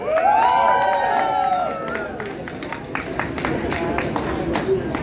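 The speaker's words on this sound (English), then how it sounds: "Everyone take a second to give yourselves a round of applause" A rally crowd outside Penske Media cheers, shouts and claps, with raised voices at the start giving way to scattered applause under ongoing crowd noise.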